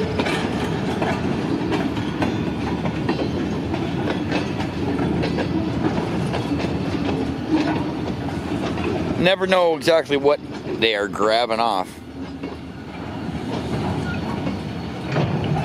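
A freight train switching cars rumbles and clanks along nearby rails, with a burst of louder metallic banging partway through, as someone talks over it.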